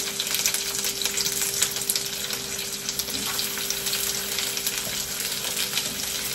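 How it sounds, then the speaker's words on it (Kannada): Sliced onions frying in hot oil in a home kitchen pan, a steady close hiss and sizzle that runs continuously with faint crackles, no voices. "ಇವಾಗ ಎಣ್ಣೆ ಕಾದಿರೋದ್ರಿಂದ ಫಸ್ಟು ಆನಿಯನ್ ಹಾಕೋತಾ ಇದ್ದೀನಿ."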